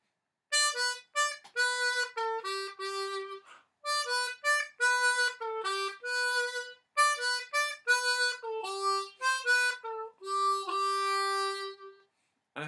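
A harmonica in C plays the instrumental break of a pop song, clear solo single notes and short phrases in a steady rhythm, close and alone with no talking.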